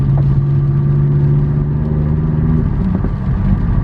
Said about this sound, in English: Oh my God, it's popping! It's f***ing popping!